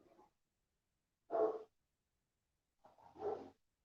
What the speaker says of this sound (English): Can you hear the dogs?